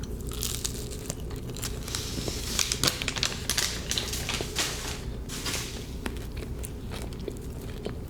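Someone eats a churro, with repeated crisp bites and chewing crackles close to the ear over a steady low background hum.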